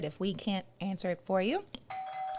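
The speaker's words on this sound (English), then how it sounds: "doorbell" A doorbell chimes once, near and clear, right after a stretch of speech. Its tone rings out for a moment and then fades.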